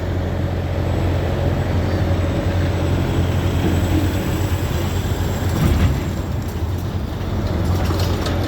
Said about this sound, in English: Nice Freightliner coming in this morning.